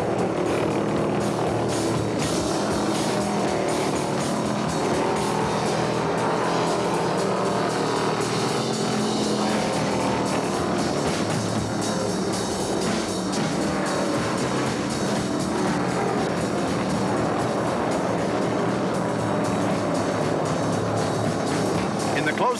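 1972 Motor State 400 stock cars roar down the front straight through traffic in a dense, continuous, loud engine drone that stays steady throughout, with a commentator talking over the noise.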